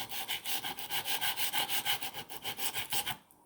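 A broadhead arrow blade is sharpened by rolling it along its factory bevel, giving a rapid, even series of rasping strokes, close and fairly loud, that stop abruptly near the end.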